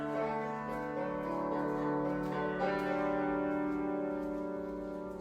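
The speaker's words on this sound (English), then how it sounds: "when I'm playing on the felt, there's a very soft, almost like harp kind of sound" Hammered dulcimer played with the felt-covered side of the hammers, producing soft, harp-like ringing tones that blend into a sustained, gently struck passage with no talking.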